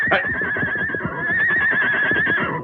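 A horse sound effect in a 1940 old-time radio drama whinnies loudly in a long, wavering, high-pitched cry that lasts throughout, over rapid rhythmic hoof clatter and clip-clop underneath.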